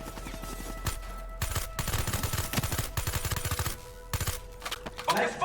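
Bursts of rapid automatic gunfire in a Black Ops 3 battle as cooling tower rods are targeted, loud clustered volleys with short gaps and a few single shots, with faint voices underneath.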